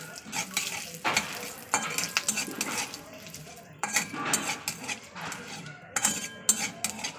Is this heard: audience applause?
no